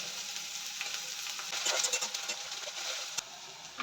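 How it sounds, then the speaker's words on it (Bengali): Finely chopped onion going into a frying pan already holding garlic, ginger and chilli for a rohu fish kofta curry, soft steady oil sizzle that swells briefly as the onion lands, with light scraping clicks, fairly quiet and no voices. "এবার এর মধ্যে মিহি করে কুচিয়ে রাখা পেঁয়াজ দিয়ে দিচ্ছি"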